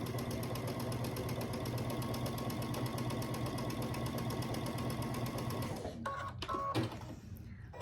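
A sewing machine stitches a quarter-inch seam on a quilt block, its rapid, even mechanical chatter running steadily and close before stopping abruptly near the end, followed by a few brief handling clicks.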